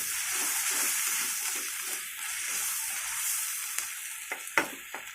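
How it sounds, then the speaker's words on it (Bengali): Onion, ginger and garlic fry in oil for a chicken curry, producing a steady bright sizzle with a rhythmic stirring pulse and a few clinks of the spatula near the end. "পেঁয়াজ একটু আদা রসুন পেঁয়াজ একটু তেলের মধ্যে কষিয়ে নেব"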